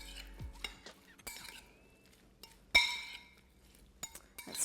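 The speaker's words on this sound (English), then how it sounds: "Give it a stir." A spoon clinks against a pot while Mexican chicken chilli is stirred, with a few sharp metallic chinks and scrapes amid quiet kitchen ambience, close and fairly soft.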